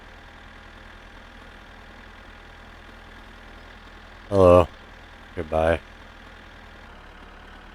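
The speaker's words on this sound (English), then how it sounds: "I'm glad I'm in the tractor with the trailer driving on this road today" A tractor towing a trailer down a road in My Summer Car: a low, steady engine drone hums throughout at an even level, while two brief spoken words come over it near the end.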